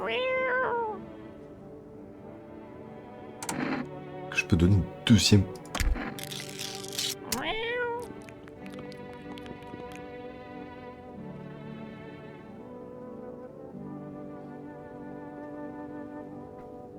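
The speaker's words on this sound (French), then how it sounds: "Oh, le chat." A cat meows several times in the video game No, I'm not a human, its cries rising and falling near the start and around the middle, with a person talking over much of the clip.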